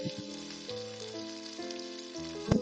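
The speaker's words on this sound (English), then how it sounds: "we are going to add the cod and cook it for 3 more minutes, mixing it very well with the onion" Cod frying in a pan with onion and garlic while being stirred, a soft continuous sizzle under steady background music, with a sharper scrape near the end.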